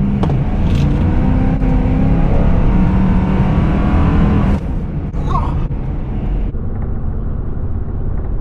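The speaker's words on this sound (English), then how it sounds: "Going about 70 miles an hour, and you can just feel those tires spin." A 2004 Ford F-150 4x4 single cab with 400,000 miles cruises at about 70 mph, a loud steady roar of road, tire and wind noise inside the cab that drops somewhat near the end.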